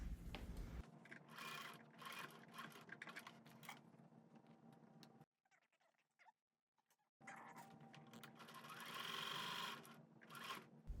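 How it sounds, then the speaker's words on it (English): A sewing machine stitches quilt pieces from the edge in chain piecing, a close, rapid mechanical whir that runs steadily, stops briefly for a couple of seconds, then resumes. "So I'll sew from the edge, and I'll sew this whole piece."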